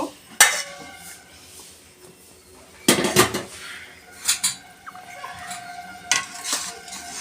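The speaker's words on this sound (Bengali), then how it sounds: "এবার আমি এটা ঢাকনাটা খুলে দেখব।" A lid comes off a pot of vegetable dal with loud metal clanks and scrapes in several separate bursts, close by, with quiet gaps between them and no talking.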